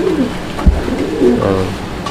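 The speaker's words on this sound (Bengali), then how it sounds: "এখানে চমৎকার আরও এক জোড়া কবুতরের কালেকশন আছে" Pigeons coo softly in low, rolling phrases nearby, with a brief thump and some background noise around them.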